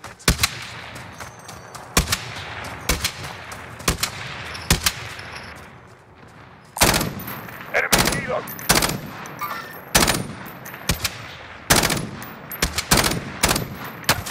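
Heavy .50 cal gunfire in the video game Call of Duty Modern Warfare: loud, sharp shots ring out in irregular bursts, each with a booming tail. A steady rumbling background sits between them, and faint talk comes through now and then.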